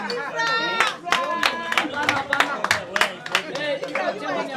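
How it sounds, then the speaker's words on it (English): Scattered audience clapping at the launch of a government party registrar's office in Garissa, uneven claps from a modest crowd mixed with voices and chatter. "Clap for Ifra, please."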